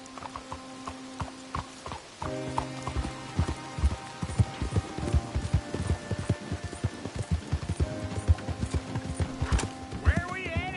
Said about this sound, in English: You got a horse? Get on it.